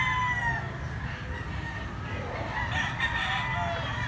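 Young rooster (stag) at a chicken market in Mantalungon, Cebu, giving one drawn-out crow over steady background noise, fairly near, with faint voices around.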